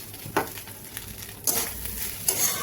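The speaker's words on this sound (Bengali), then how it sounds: "এটাকে দিয়েও আবার একবার ভালোভাবে নাড়াচাড়া করে আমরা গ্যাস বন্ধ করে দেব।" A spoon stirs food sizzling in a pan on a gas stove after a pinch of sugar is added, with about three distinct scraping strokes over a continuous close frying hiss.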